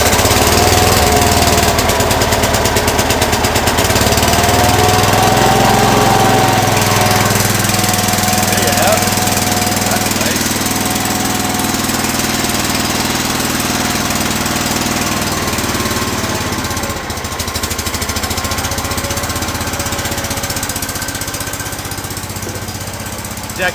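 Cub Cadet 106 garden tractor engine running after a cold start, a loud rough steady chugging drone with irregular knocking that continues throughout.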